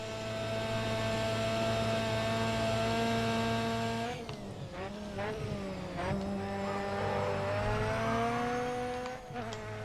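A Ford Sierra touring car racing in the Grid Autosport video game, its engine a sustained high whine that dips and rises through gear changes, with tyre scrub and brief rough bursts, no voices.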